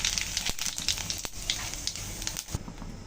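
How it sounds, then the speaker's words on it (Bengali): Dried chili, cumin seeds and bay leaf sizzle in hot oil for a spiced fish curry, a steady faint hiss with small pops and crackles throughout, close by and with no talk. "এখন ফোড়নে দিয়ে দিচ্ছি শুকনো লঙ্কা,"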